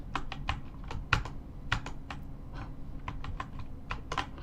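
Close, brisk typing on a computer keyboard: a dense, uneven patter of crisp key clicks with a few harder presses, with no one speaking.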